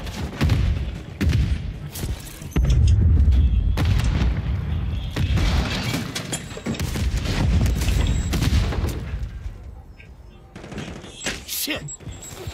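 Grenade blasts and gunfire in a Call of Duty or Halo match, heavy booms and rapid shots in dense bursts, with a person talking over parts of the action.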